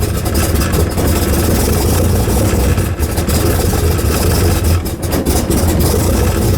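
A 1968 Pontiac Firebird engine cold-started in about 30-degree weather, running loud and close with a rough, steady roar for several seconds and no talking.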